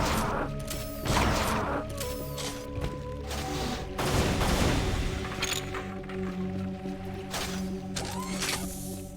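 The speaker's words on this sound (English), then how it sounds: "I have a flak cannon with a lot of ammo" Flak cannon firing in the video game Unreal: Return to Na Pali, several loud bursts of booming shots with metallic clanks and ringing mechanical tones between them, no talk.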